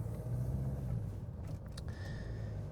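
A car driving on a road gives a low, steady engine rumble and cabin drone, quiet and continuous, with a few light rattles near the end.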